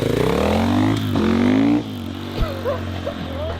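A KTM 450 EXC-F dirt bike engine revs hard and loud up close, its pitch climbing through about two seconds before the throttle drops back to a lower idle-like drone with small blips.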